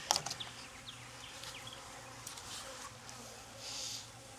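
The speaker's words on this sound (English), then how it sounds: "Yeah, they're a little bit buzzy already. This hive is getting strong." Honeybees buzzing from an opened hive in an apiary, a soft steady drone close by with a few brief louder handling knocks at the start and a swell of buzzing near the end.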